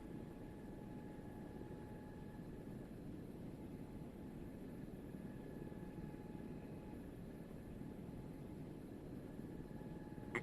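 Helicopter in a video game flying steadily over a wildfire scene, a constant low rotor drone with faint engine whine, even and continuous throughout.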